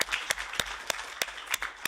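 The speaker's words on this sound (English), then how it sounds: "a big applause goes for the translators" Sparse clapping from a small audience at a conference session, a handful of distinct claps spaced irregularly, fairly faint with light room noise between them.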